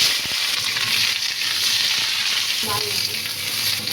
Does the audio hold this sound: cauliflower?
yes